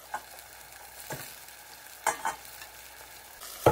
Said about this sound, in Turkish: Menemenimiz kaynadı. Kızartmış patlıcanlar koyalım.